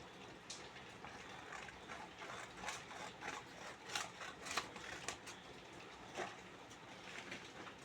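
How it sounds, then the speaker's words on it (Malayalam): Scissors cutting off the excess from a folded square of origami paper, faint close snips and rustling in irregular bursts over a soft background hiss, with no talking. "സ്ക്വയർ പേപ്പറിന് ഒന്ന് ഇങ്ങനെ മടക്കി ബാക്കിയുള്ള ഭാഗം ഒന്ന് കട്ട് ചെയ്ത് മാറ്റാം"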